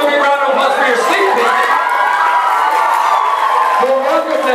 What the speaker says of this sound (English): Give me a round of applause for your sneak